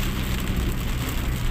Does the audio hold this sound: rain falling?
yes